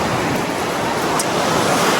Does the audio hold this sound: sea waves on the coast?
yes